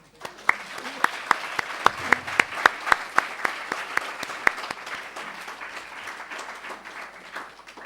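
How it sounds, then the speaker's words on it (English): Conference audience at a technology plenary applauds, a broad wash of clapping with some sharper individual claps standing out early before the applause thins and fades toward the end. "give yourselves a round of applause for sitting down and listening to Dave for 80 minutes"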